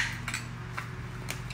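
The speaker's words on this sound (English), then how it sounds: "Let me put the spoon up here." A metal spoon is set down with a light clink and a couple of small taps against a hard surface nearby, brief and soft, with no talk.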